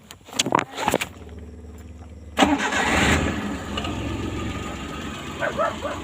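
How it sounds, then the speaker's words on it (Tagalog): A multicab's engine cranks briefly, catches, and settles into a steady idle, loud and close, with a few clicks and knocks before the start. "So ngayon guys, mag-start na ako. Umandar na siya guys."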